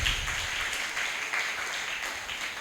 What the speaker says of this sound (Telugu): చప్పట్లు కొట్టి దేవుని నామాన్ని గనపరుద్దాం